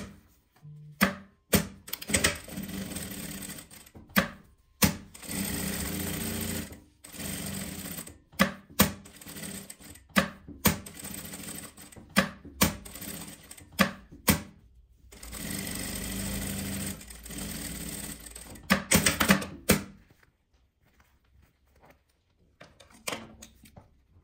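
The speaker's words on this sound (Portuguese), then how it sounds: "Eu preciso costurar mesmo, preciso costurar tudo." Sewing machine stitching all the way around a small fabric scrap, running in repeated bursts with short pauses between them for about twenty seconds, then going quiet.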